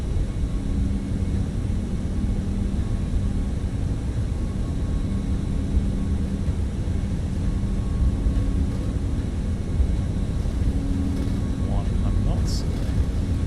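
An Aerosoft/Toliss Airbus A340-600 in Microsoft Flight Simulator 2024 builds speed on its takeoff roll at Frankfurt, a steady low engine roar and rumble with a faint whine, continuous beneath a man's speech.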